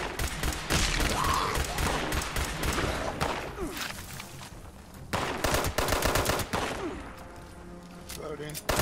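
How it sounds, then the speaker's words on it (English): Gunfire in Fallout 76 during a hunting outing with a robot shooting nearby: rapid bursts of close, loud shots repeat in clusters, with brief quieter gaps between volleys. "What the hell is it shooting at?"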